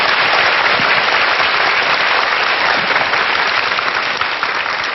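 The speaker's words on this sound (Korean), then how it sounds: "좀 박수로 환영을 해 주십시오" A studio audience on a Korean talk-lecture show applauds to welcome a guest, a loud, dense and steady roar of clapping that fills the whole stretch without pause.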